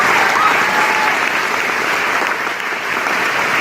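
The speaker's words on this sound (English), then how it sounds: "I got to give you a round of applause for that." A round of applause from a small group, loud, dense clapping that continues steadily for the whole stretch with no pause.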